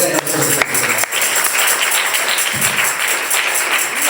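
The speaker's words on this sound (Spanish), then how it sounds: "Dale un fuerte aplauso" A church congregation claps in a steady wash of applause at a bilingual Spanish-English service, fairly loud and continuous, with a few sharper knocks early on.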